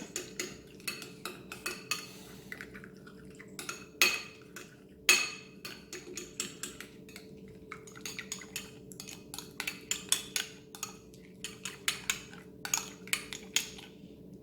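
A spoon stirring a tomato and chilli sauce mixture in a bowl, giving repeated quiet clinks and scrapes in an irregular rhythm, with a couple of sharper knocks, close and soft.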